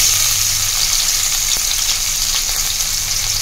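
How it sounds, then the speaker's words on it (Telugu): Cumin and mustard seeds sizzle in hot oil for rava idli tempering, a dense, even crackling hiss held close and steady throughout, with a few faint stirring ticks and no talk. "సో ఆయిల్ వేడవగానే జీలకర్ర వేసుకున్నాము, ఆవాలు వేసుకున్నాము"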